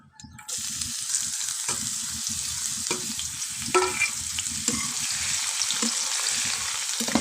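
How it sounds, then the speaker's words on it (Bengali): Crushed garlic fries in hot oil toward golden, giving a constant close sizzle with irregular spoon-stirring scrapes and taps throughout. "যত সময় রসুন গোল্ডেন কালার না হবে, গোল্ডেন কালার, তত সময় আমি ভাজবো"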